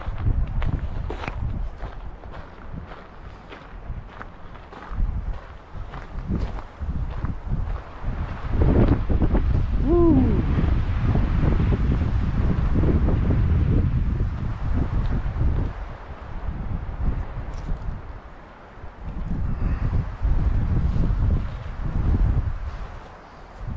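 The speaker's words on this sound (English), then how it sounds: "the wind is moderate, not too bad, but it's picking up" Moderate wind buffets the microphone at Point Imperial on the Grand Canyon North Rim, a loud, continuous low rumble with gusty surges and brief lulls, heard alone with no talking.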